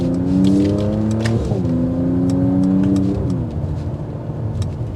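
A 2022 Mercedes-AMG GT43 engine revs hard under acceleration, its steady rising tone climbing through two upshifts with brief dips between gears, loud and close, heard from inside the car with no talking.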